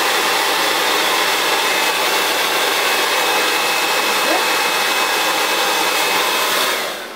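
A handheld hair dryer blows hair during a salon-style blow dry, a loud, steady close whoosh of airflow running continuously before cutting off at the end.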